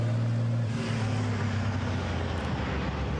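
A big European Truck Racing Championship race truck on the circuit gives off a continuous loud engine roar with a deep, steady drone throughout.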